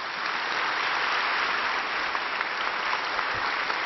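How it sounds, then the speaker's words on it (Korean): A church congregation at Sunday service applauds to welcome the pastor to the pulpit, dense even clapping from many hands that holds steady and fairly loud throughout without any voices. "우리 박수로 맞이하도록 하겠습니다"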